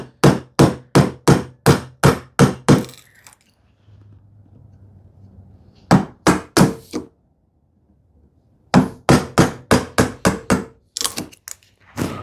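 Mallet blows driving a chisel into wood clamped upright for hand-tool joinery on a TV unit, loud close strikes in quick, even runs of about eight to ten, separated by short pauses with faint paring sounds.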